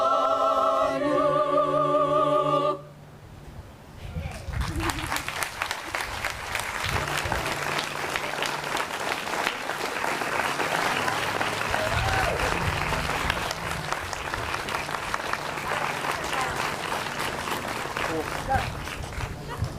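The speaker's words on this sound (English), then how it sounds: "a round of applause one more time for the Edwardsville a cappella group" Sustained applause from a city council meeting audience for the Edwardsville a cappella group, beginning after a few seconds of singing and holding steady as dense, even clapping, with crowd murmur beneath.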